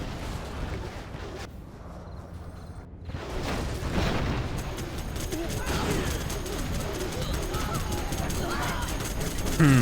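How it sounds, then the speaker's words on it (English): Artillery barrage in a real-time strategy game, a brief quieter gap followed by sustained rumbling explosions and crackling fusillades that build in loudness, with a commentator's voice faintly underneath. "Artillery comes in, wipes out a ton of stuff."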